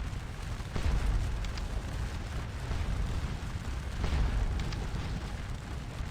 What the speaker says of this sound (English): we're just ripping holes in the square right here with our artillery.